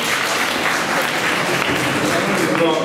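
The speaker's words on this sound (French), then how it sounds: "Je crois que vous pouvez vous applaudir déjà" Students applaud in a lecture hall at a business school presentation, dense continuous clapping from a large crowd that stays even and full throughout, with some voices mixed in.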